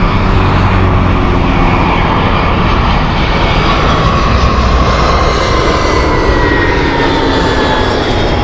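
A British Airways aircraft on a Jersey service at Heathrow Airport roars loudly and continuously with steady engine noise, a dense, close, unbroken rumble and whine with no talking.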